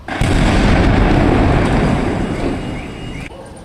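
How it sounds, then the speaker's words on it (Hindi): A loud, heavy explosion from the Rohini blast in Delhi roars up abruptly and rumbles on for a few seconds before cutting off, deep and booming. "आप इसकी आवाज़ से अंदाज़ा लगा सकते हैं कि कितना ये ज़ोरदार धमाका था"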